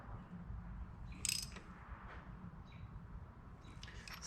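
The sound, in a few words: ratchet tightening a spark plug on a Farmall H tractor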